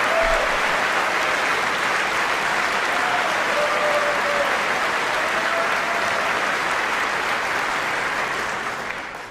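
Sustained, even applause from a large chamber audience at the State of the Union address, a dense wash of clapping at constant loudness that fades slightly at the end.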